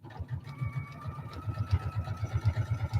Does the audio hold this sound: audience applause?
no